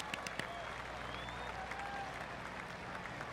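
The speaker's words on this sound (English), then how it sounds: "That deserves a golf clap." Soft, scattered golf clap from a small crowd at a golf tournament green after a birdie, a light polite patter that stays fairly quiet throughout.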